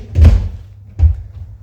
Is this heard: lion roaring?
no